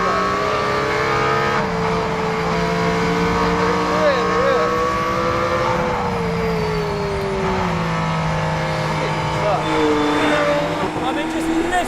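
A high-strung performance car's engine drones steadily throughout, its harmonic pitch rising and falling with revs and a hard, uncompromising tone, while someone talks over it the whole time.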